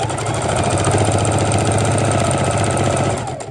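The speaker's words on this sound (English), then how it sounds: "we're just sewing down, making sure we're getting the rickrack right over the edge of our plastic" A sewing machine runs steadily, stitching rickrack trim down over the edge of a sheet of plastic on an activity mat quilt, a continuous close mechanical whir with a rapid rhythmic needle chatter that winds down at the end.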